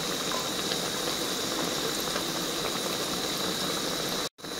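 Lentil kababs frying in hot oil, a steady dense crackling bubble that runs evenly and fairly close before cutting out abruptly near the end.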